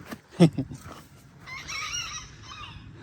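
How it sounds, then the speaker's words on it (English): Polish chickens squawk and cluck nearby in short bursts, followed by a longer raspy crowing call from a rooster, moderately loud against a quiet background. "that's Rocky the rooster we got from my dad's property"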